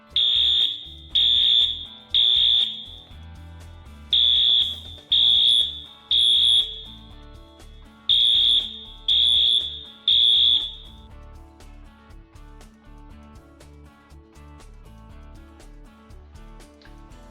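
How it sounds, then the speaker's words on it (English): A loud electronic fire alarm beeps in repeated bursts, roughly one per second in groups of three, then stops, leaving quieter background sound. "Here's an emergency alarm."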